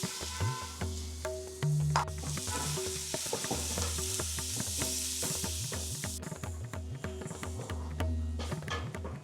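Onions and kasuri methi fry in hot oil for a biryani, a steady loud sizzle with frequent scraping stirs and clinks of a spoon against the pan, close up and without talk.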